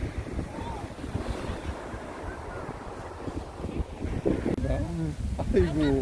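Ocean surf washes steadily on a windy beach, with gusts buffeting the microphone and brief voices near the end.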